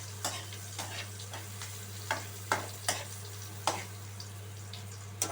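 Chopped onion frying in hot oil until light brown, a soft steady sizzle broken by several sharp stirring scrapes and clinks at irregular intervals, close by with a constant low hum beneath.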